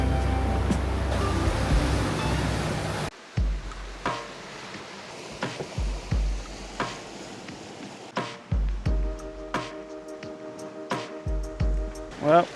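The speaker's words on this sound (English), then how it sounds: "look at the size of these waves coming." Ocean waves surge around a sailing boat motoring across the Indian Ocean: a steady loud rush of water first, then a run of separate splashing surges and low thumps against the hull, close by.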